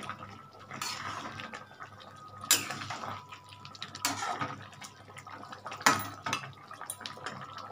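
Spoon scraping and clinking against a cooking pot as chicken kasha curry with potatoes is stirred after hot water goes in, a few sharp metallic knocks over a wet, sloshing bed, close and unvoiced.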